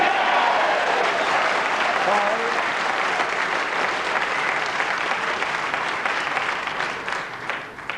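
A snooker crowd at the 1995 World Championship quarter-final between Jimmy White and John Parrott applauds a shot. The clapping is dense and sustained for several seconds, then thins out and fades toward the end.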